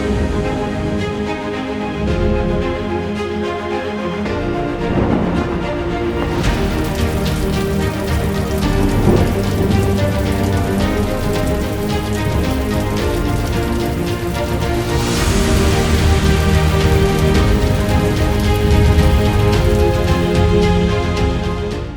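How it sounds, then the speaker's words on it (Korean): Steady, dense rainfall striking surfaces, a continuous loud patter with no pauses that swells slightly at moments, with no other sounds on top. "그런 후에 그 땅에 다시 비가 내리기 시작합니다."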